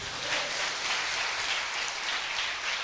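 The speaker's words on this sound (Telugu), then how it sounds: "గట్టిగా చప్పట్లు కొట్టు." A church congregation claps loudly and continuously, a dense steady wash of applause from many hands throughout.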